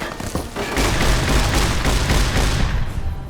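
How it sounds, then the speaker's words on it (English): Gunfire in the video game Fallout: New Vegas, a dense, loud barrage of overlapping shots and booming impacts rattling on for several seconds. "Stop dodging shots."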